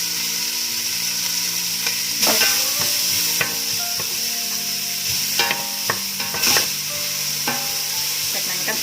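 Sausage slices frying in a pan hiss steadily up close, with metal utensil clinks and scraping strokes as the pieces are stirred and turned.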